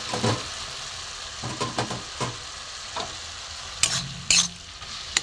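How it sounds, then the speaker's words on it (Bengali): Potato, grated ginger and chopped green chili stirred and sautéed in a pan, giving a steady soft sizzle broken by scraping stir strokes and a couple of sharper clatters of a spoon against the pan. "এটা ভালো করে কষিয়ে নেবো"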